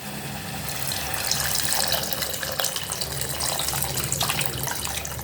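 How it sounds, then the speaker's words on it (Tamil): Tamarind water pours into a cooking pot for a lentil-ball kuzhambu in a home kitchen, a steady splashing gush that runs unbroken for several seconds at close range. "அந்த புளியை அதில் ஊற்றிடுவோம்."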